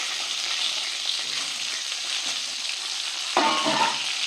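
Diced pointed gourd pieces sizzle and crackle in hot oil, a steady close hiss that swells louder near the end as they settle in the pan.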